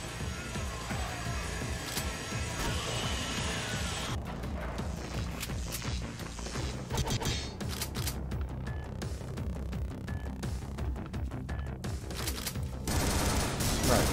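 Continuous heavy gunfire in the gory shooter game Butcher, a dense unbroken barrage of shots and thuds that stays loud throughout, with little else heard.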